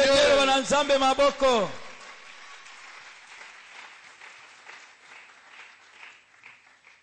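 A church congregation bursts into applause after a scripture reading, starting over a loud sung or spoken phrase that fades within two seconds; the clapping then continues softer and sustained to the end.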